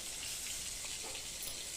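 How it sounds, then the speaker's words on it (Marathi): Soft, steady patter of light rain, a continuous hiss of fine drops with no voices. "थोडं थोडं पाऊस पण आले"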